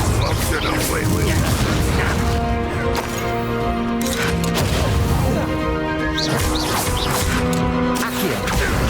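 Spell impacts in Hogwarts Legacy, the Levioso and Confringo spells in a final battle against Ranrok, crash and boom in a dense, continuous stream of blasts over a loud game score, with a voice speaking through.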